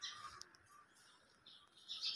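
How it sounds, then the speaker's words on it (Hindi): Birds chirping outdoors in a home courtyard, faint high tweets and calls scattered through a quiet background. "यहाँ पे चिड़ियों की इतनी अच्छी आवाज आ रही है"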